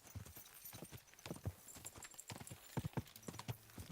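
Horse hooves clip-clopping at a steady walking pace in the video game Kingdom Come Deliverance 2, a quick even rhythm of close, crisp hoof strikes with no talking over them.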